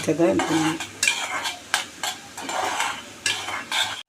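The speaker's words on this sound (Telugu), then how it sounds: "నేతిలో వేపుతున్నాం వల్ల నురగలు వస్తున్నాయి" Coconut pieces fry and foam in hot ghee for sweet pongal, a steady close sizzle broken by repeated scraping strokes of a spoon stirring against the pan.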